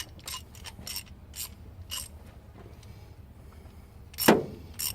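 A worn ratchet working exhaust manifold bolts on a 1991 Firebird: a run of quick, close clicking bursts, then a pause and a louder metallic clack near the end.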